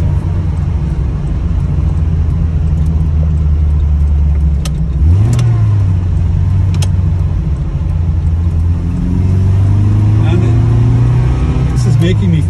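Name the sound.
1970 Lancia Fulvia 1.3S Sport Zagato engine while driving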